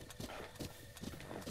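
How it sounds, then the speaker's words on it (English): Horse hooves clip-clop in Zelda: Breath of the Wild, a steady walking rhythm of repeated hoof falls at moderate level, heard alone without talk. "Wow, that's a nice-looking horse."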